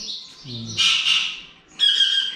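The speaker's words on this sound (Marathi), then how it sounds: "एका पोपटाचा आवाज येतोय जो सतत सतत आवाज करतो आहे" A parrot at an old traditional mansion squawks three times in loud, harsh, close calls separated by short pauses, with no voices.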